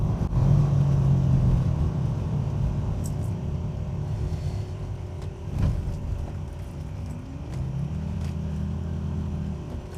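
A 1979 Aston Martin V8 Oscar India works through its gears, its V8 giving a steady low rumble that dips between shifts and climbs again as it pulls away, heard close from inside the car with no talking.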